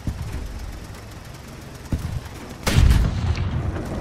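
Gunfire from the War Thunder video game: after a rumbling engine-like background, a few heavy booming shots crack out, the loudest near the end, with no one talking.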